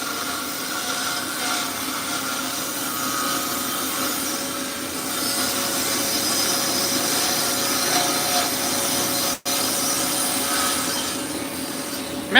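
Festool TS75 circular saw with 75 mm cutting depth running through wood, a loud continuous whirring cut held steady for about twelve seconds, with one abrupt brief dropout near the end.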